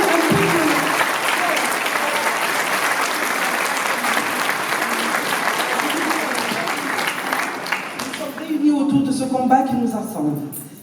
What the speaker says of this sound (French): j'aimerais quand même que vous m'applaudissiez un tout petit peu